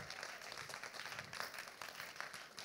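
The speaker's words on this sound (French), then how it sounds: "Applaudissons le Seigneur, s'il vous plaît." Congregation applauding during a Christmas church service, a faint, distant wash of steady clapping with no voices rising above it.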